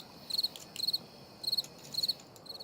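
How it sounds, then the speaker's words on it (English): Cricket chirps fired from a stream deck soundboard during a live poker stream, coming in short regular bursts of rapid pulses about every half second, fairly faint over a quiet background. "I'm playing crickets right now"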